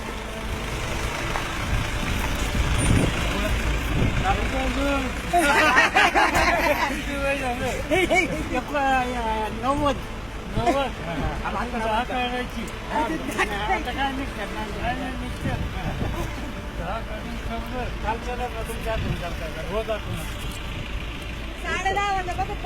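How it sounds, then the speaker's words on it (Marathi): Sharad Pawar's car arrives on a roadside where a crowd waits, with vehicle engine rumble and passing traffic beneath loud crowd chatter and voices throughout. "पवारांची गाडी आली"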